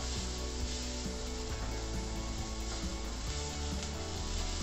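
Rice ingredients being sautéed in a pan for a brown rice dish, a steady close sizzle and frying hiss running continuously with occasional stirring scrapes and no talking.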